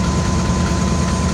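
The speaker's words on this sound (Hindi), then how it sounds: "यह व्यवर्थ आप साउंड सुन सकते हैं AG30 का," An AG30 diesel locomotive, numbered 6017 and leading the 14 Down Awam Express at Drig Road station, idles with a steady, loud, low engine drone and a faint constant whine, heard close and alone.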